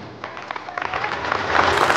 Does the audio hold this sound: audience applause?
yes